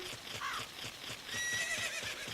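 Horse neighing in the video game The Legend of Zelda: Ocarina of Time, a clear whinny near the start over steady clip-clop hoofbeats and faint game sound, with no talk.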